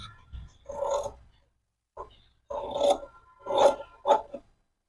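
Scissors snip away surplus lining pieces from a back-open princess-cut blouse, a few close, soft rasping cuts in short separated bursts with quiet pauses between.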